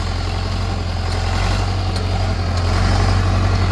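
Scout TU 404 tractor engine running close by at a steady, throttled-up drone, a continuous heavy low rumble with no pauses.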